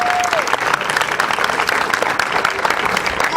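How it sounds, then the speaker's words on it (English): An audience at a film Q&A for a festival screening at LAFF 2013 applauds steadily, with dense clapping and a little crowd murmur, all sounding close and full. "Round of applause."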